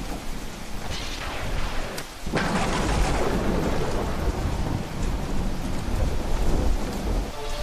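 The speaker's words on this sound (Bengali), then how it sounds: "চারিদিকে বজ্র বিদ্যুৎপাত সহ বৃষ্টি, জগৎকুল ধ্বংসপ্রাপ্ত হতে শুরু করেছে।" Heavy rain pours steadily while thunder rolls in long, loud rumbles, with a sharp crack near the two-second mark giving way to a sustained, booming storm.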